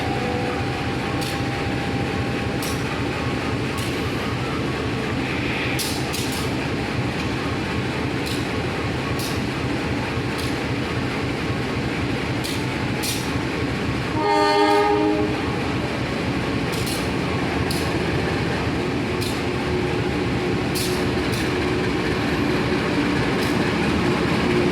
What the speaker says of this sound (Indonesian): persiapan kereta api Serayu.